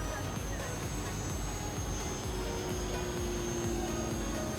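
A Mini Apprentice S RC airplane flying overhead, a constant distant whine of its small electric motor over steady outdoor wind noise, with faint talk under it.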